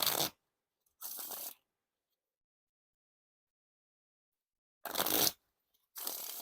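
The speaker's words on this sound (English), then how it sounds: "This deck just doesn't want a riffle shuffle or bridge shuffle." A deck of playing cards, the Censored deck by 2ND To None, is riffle shuffled in two short bursts of crisp fluttering clicks separated by a long silence, close and fairly quiet.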